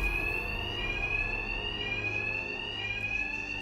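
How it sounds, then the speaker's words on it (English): Alarm ringing in the video game Batman Arkham Knight, a continuous high electronic tone over a low hum, steady and unbroken throughout, with no voices. "Will be covered by the noise of the alarm."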